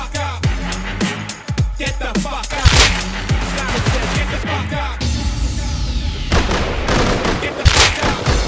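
Gunfire in the game Rust: repeated close gunshots and bursts of automatic fire, with sharp loud cracks scattered throughout and shouting voices in between.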